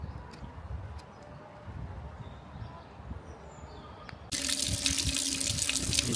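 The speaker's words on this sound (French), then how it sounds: "Nous sommes devant une belle fontaine de 1571." Water runs in a 1571 stone fountain in a typical village in the Italian Aosta valley. Quiet outdoor ambience gives way to a loud, steady splashing of water as the listener comes close.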